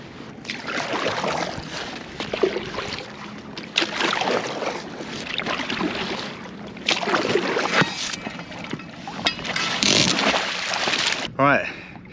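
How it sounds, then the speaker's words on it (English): Paddle strokes from an inflatable kayak afloat in a harbour come in steady splashing pulses, with water sloshing and wind buffeting the microphone throughout. "Just having to paddle a bit now to get the right direction."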